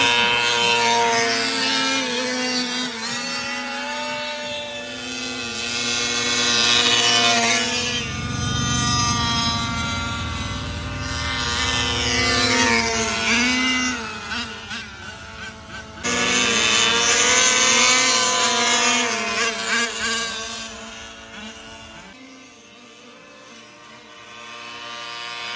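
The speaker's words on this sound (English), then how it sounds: "for those freaks out there who want to hear engine noise," Engines of large-scale RC cars, including a Losi 5IVE-T, DBXL and X-Maxx, racing on an outlaw dirt track, buzz loudly and continuously with rising and falling revs, with no talk.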